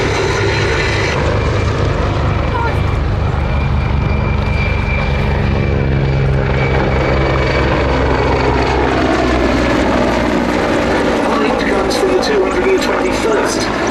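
Loud, continuous rotor and engine roar from low-flying Czech Air Force Mi-35 and Mi-171 helicopters at an air show display, a heavy droning rumble that stays strong throughout, with a voice talking over it.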